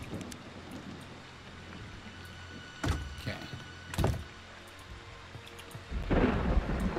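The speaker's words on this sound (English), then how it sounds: "it's raining a lot" Steady rain hisses throughout while several sharp thunder cracks strike, with a heavier rumble building toward the end, in the video game Friday the 13th: The Game.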